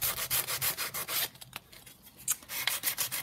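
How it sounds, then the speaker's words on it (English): Sandpaper rubs briskly over a junk journal cover to distress it, a run of close, scratchy strokes with a short quieter pause partway through before the rubbing resumes. "So I've got some sandpaper here. So I'm going to start by kind of literally distressing quite a bit around the cover"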